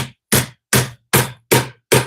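Six evenly spaced hammer taps, sharp and close, each ringing briefly before the next strike, as a caster is tapped into a gaming chair.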